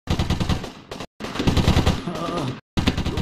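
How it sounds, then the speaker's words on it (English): Rapid automatic gunfire in the 2002 war video game Platoon, dense bursts of shots separated by brief silences, loud and close, with faint voices beneath. "Bullets are flying here, sir!"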